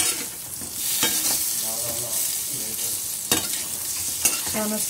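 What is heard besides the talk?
sautéing fried methi vadas in a pan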